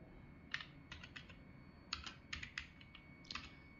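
Typing on a computer keyboard while entering a hospital name into a doctor's prescription pad design in MS Word; quiet clusters of soft, quick key clicks come in short bursts with pauses between, close and alone.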